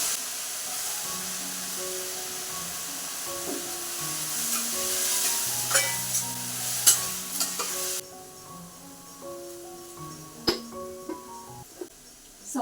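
Potatoes sautéed with green chillies sizzle steadily in a pan while being stirred for an everyday home-cooked vegetable dish, with clinks of the utensil against the pan and background music playing throughout.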